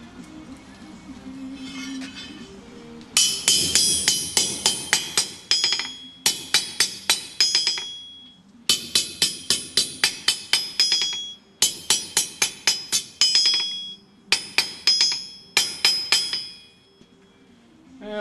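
A blacksmith hammers steel on an anvil to draw out a taper, ringing metallic blows in rapid bursts of several strikes each, separated by short pauses, loud and close.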